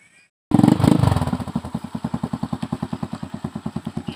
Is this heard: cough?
no